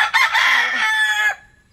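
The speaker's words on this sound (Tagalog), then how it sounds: "yung mga manok" A rooster gives one loud, close cock-a-doodle-doo crow lasting over a second, a faint lower cluck beneath it, then fading into quiet.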